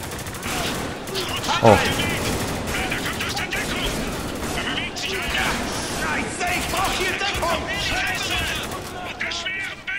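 Gunfire in the shooter game Spec Ops The Line, with rapid bursts of automatic shots and cracks over a busy battle din, while someone talks throughout.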